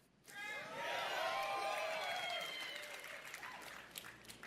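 A gaming press conference audience applauds and cheers, the sound swelling quickly and holding steady, loud and full with some whoops rising above the clapping.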